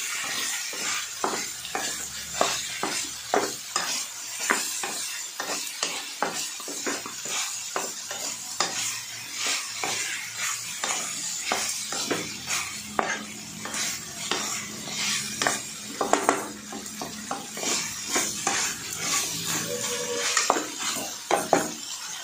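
Mutton pieces frying with salt and turmeric in a pan, with steady sizzling and frequent metallic clinks and scrapes of a spoon stirring against the pan, close and continuous throughout.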